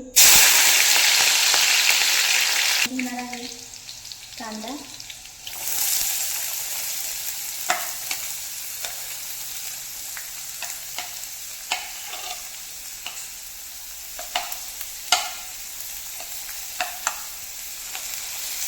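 Green chilies dropped into hot oil in a pan, a loud burst of spitting sizzle at first that settles into a softer steady frying hiss, with scattered stirring clinks and scrapes close by.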